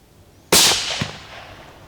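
A single rifle shot during a deer stalk cracks out loud and close, then trails off in a long reverberant tail with a dull thump a half second later.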